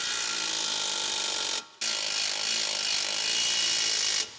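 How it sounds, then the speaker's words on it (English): An impact wrench with an 18mm long socket tightens the strut-to-knuckle bolts on a front-wheel-drive 2012-2015 Chevrolet Cruze, buzzing loudly and close in two steady bursts with a short break between. "Use the 18mm long socket with the impact wrench to tighten the strut to knuckle bolts."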